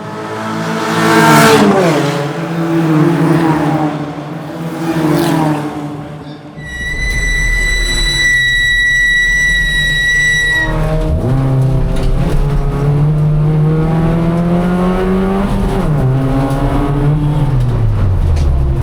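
Race cars in a Levitas Cup race, engines revving and shifting up through gears with rising and falling pitch, loud and close, broken by a sharp high whine midway and a steady roar afterwards.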